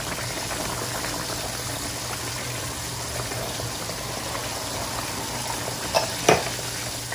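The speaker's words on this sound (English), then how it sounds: "Let it simmer." Sweet and sour sauce made with vinegar simmers steadily in a pan for a tilapia dish, a constant bubbling, sizzling hiss close up with a couple of brief louder pops near the end.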